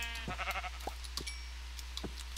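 Sheep in the video game Minecraft give a couple of short bleats over a steady low hum, with faint game clicks scattered around them and no talking.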